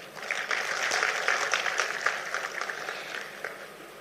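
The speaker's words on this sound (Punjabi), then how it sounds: "ਇਹਦੇ ਵਾਸਤੇ ਮੈਂ ਤੁਹਾਡੇ ਲਈ ਤਾੜੀ ਮਾਰਦਾ" Applause for teachers at a Punjab gathering, a sustained crowd of hands clapping steadily for several seconds, dense and moderately loud with uneven swells.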